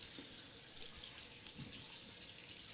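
Water runs steadily from a bathroom tap, switched to cold during a shaving routine, a close, continuous splashing hiss that fills the whole stretch without any talking.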